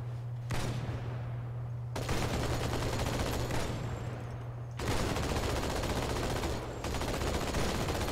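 Sustained automatic gunfire in Halo 2: Anniversary, a dense, loud rattle of rapid shots running almost unbroken throughout, with short pauses and bursts that restart, set against a low steady game hum.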